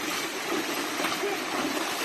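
Hiking boots splash and wade through cold water on the Appalachian Trail, a dense continuous watery rush and sloshing, close and loud.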